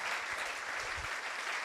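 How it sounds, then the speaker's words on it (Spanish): A church congregation applauds in praise, a brief dense wash of clapping, steady and fairly soft, heard alone. "Vamos a darle un aplauso al Señor"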